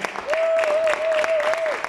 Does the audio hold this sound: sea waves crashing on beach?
no